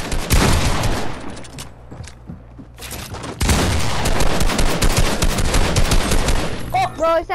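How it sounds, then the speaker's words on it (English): Rapid automatic gunfire from the Fortnite video game rattles in loud, dense bursts, pausing briefly before resuming harder, with a voice talking faintly over the shooting near the end. "Can you hear my gunshots through my mic or something?"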